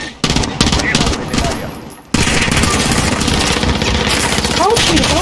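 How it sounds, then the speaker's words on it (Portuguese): Rapid automatic gunfire from the FFAR and LC10 rifles in the Warzone zombies mode rattles in loud, sustained bursts, broken by a brief pause before another long stream of shots. "Olha o tiro, olha o tiro."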